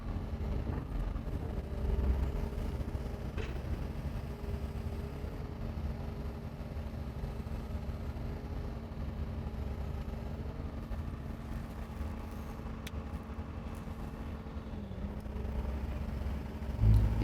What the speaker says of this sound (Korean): 차를 띄워서 주행을 한번 테스트해 보겠습니다.